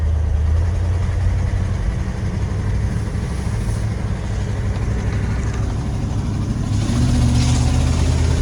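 An old OBS Ford work truck engine runs steadily with a small exhaust leak, a loud, constant low rumble and chuff throughout, with a slight rise near the end and no talking.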